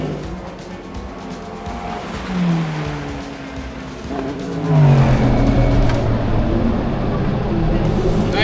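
Race cars at night during the Sebring 12 Hour roar past in succession, engines rising and falling with Doppler sweeps, loud and fairly close, with people talking underneath.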